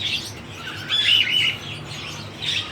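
A parrot gives short, bright chirps in a few bursts, heard close against a faint low background hum.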